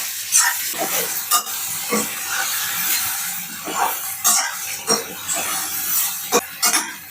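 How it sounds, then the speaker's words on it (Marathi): Whole vegetables frying in hot oil with a continuous close sizzle and hiss, broken by several sharp clacks and stirring knocks of a utensil against the pan, no talking. "गरम झाल्याच्या नंतर या पूर्ण भाज्या याच्यामध्ये फ्राय करून घ्यायच्या आहेत।"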